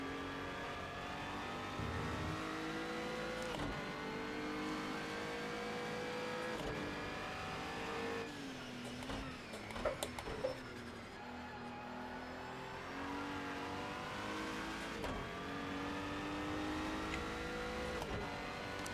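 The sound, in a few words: GT4 race car engine in the video game Project CARS 2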